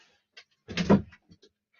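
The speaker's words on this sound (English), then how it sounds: "So I'm just going to shut my door." An interior door pushed shut at home, a single muffled thud with a brief rattle, followed by a few faint soft knocks in an otherwise quiet room.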